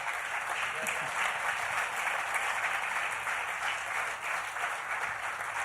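Steady applause from a church congregation fills the space, a dense, even wash of clapping lasting several seconds with no voices over it.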